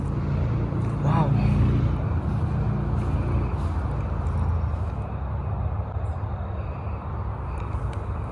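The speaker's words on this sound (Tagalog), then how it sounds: "Ay, maingay na yan. Motorway yan. Ayan yung maingay na yan. Mga sasakyan." A steady roar of motorway traffic carries through the air in New Zealand, continuous rumbling of passing cars with no distinct gaps, while people talk nearby outdoors.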